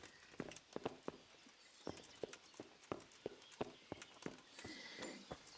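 A horse in Kingdom Come: Deliverance clip-clops at a stable, with close, crisp hoof strikes that come in an uneven walking rhythm.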